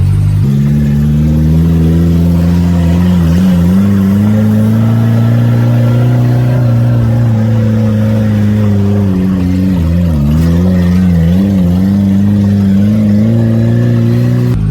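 A Suzuki Samurai 4x4 engine idles and pulls steadily as the vehicle backs up on an off-road trail, a loud, close mid-pitched drone with slight rises and dips in revs throughout and no talking.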